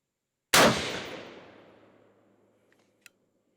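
A single loud rifle shot from an F1 Firearms 6.5 Creedmoor gas gun cracks sharply, then rolls off in a long fading echo, followed by a faint click.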